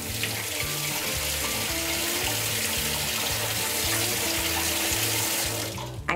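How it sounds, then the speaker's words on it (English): Cold water gushes steadily from a kitchen sink tap, a loud, continuous close-up rush that keeps going without a break and is heard alone. "put on my cold tap,"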